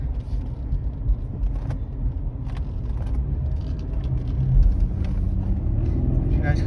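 A 2011 Cadillac CTS Performance Coupe drives through a quiet weekend industrial park, its engine a steady low rumble with road noise that swells slightly as it accelerates, a voice talking over it.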